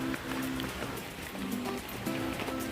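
Steady rain falls on surfaces in Coorg on a cool, overcast evening, a continuous close patter with a faint low hum underneath.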